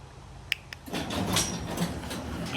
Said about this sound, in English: If we hit it, the door will close.